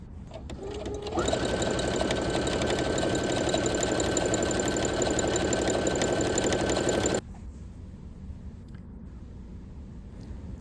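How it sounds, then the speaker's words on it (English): A sewing machine stitches utility and decorative stitches, starting after a moment and running with a loud, steady mechanical whir for about six seconds before cutting off to quiet. "I tried out 2 more utility stitches and 2 decorative stitches here"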